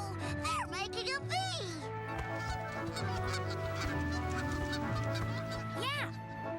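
Cartoon geese honk repeatedly in flight while migrating in a V formation, with rising and falling calls over music and chatter.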